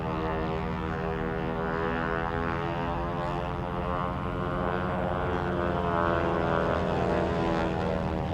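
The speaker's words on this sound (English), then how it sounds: "Lots of smoke and lots of noise as Gene Soucy flies inside loop after inside loop" Showcat aerobatic biplane flown by Gene Soucy through repeated inside loops at a wing-walking airshow, its propeller engine droning loud and steady with a rich harmonic roar that swells slightly as it pulls around.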